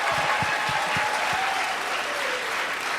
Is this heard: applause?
yes